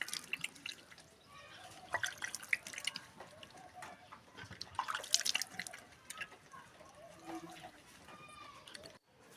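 Water splashes and drips as someone washes their face with water scooped from a container, soft, close intermittent splashes with quiet gaps.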